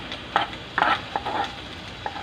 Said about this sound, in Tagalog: Pabayaan natin na mag-brown ng kaunti ang ating chicken breast